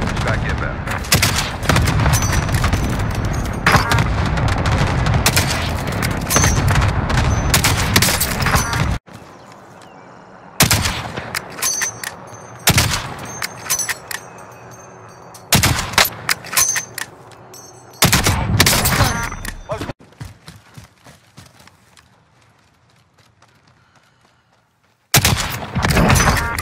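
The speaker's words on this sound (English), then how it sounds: "Allied cluster strike inbound." Cluster strike explosions and rapid gunfire in the Call of Duty Warzone video game, loud dense bursts of booms and shots broken by quieter gaps, with game radio voices between the blasts.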